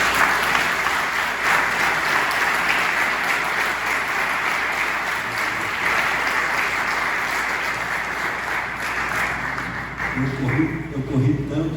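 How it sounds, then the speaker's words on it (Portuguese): A church congregation at a Sunday celebration service applauds the Lord with sustained, full-room clapping. A voice speaks over it toward the end. "Aplauda o Senhor por tudo."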